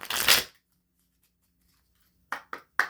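A burst of cards being shuffled, then a pause and three quick riffling snaps near the microphone.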